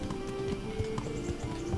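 Horse hooves while riding in the medieval video game Kingdom Come: Deliverance, a quick steady clip-clop of hoofbeats over a low humming game ambience and a sustained tone, no talk.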